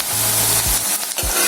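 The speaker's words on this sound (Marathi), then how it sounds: "कांदा परतून झाला की मग त्यामध्ये आपल्याला चिवळ ही घालायची" Chival greens hit hot oil with sautéed onion in a pan, giving a loud, steady sizzle and frying hiss with brief stirring scrapes, no voices.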